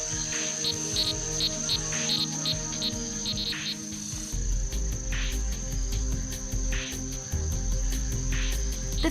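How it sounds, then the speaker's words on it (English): Male frogs call in a dense chorus of rapid, pulsed chirps and trills. The calls repeat steadily and grow fuller partway through, with no talk. "The female frogs will select the male with the loudest and sweetest call"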